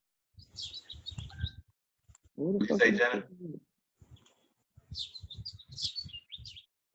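A bird sings in a front yard: bright, high chirping phrases come in two bursts near the start and end, and someone talks in between and over them.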